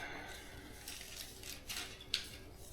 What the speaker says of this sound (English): Let's start with a pair of scissors